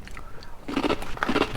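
Crunchy tempura seaweed snack being bitten and chewed close up, with a faint sound early on and then a cluster of sharp crisp crunches in quick succession.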